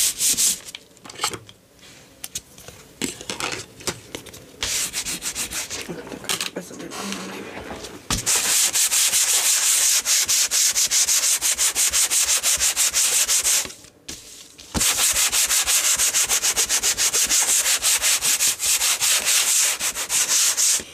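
A hand sanding block with sandpaper rubbing back and forth over wood in a steampunk travel document bag project, rapid close rasping strokes that are quieter at first, then loud and continuous with a brief pause, while someone talks over them.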